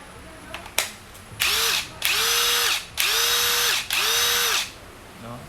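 An Ozito cordless drill runs in four short bursts of whirring motor, each revving up, holding steady and winding down, preceded by a couple of sharp clicks, loud and close.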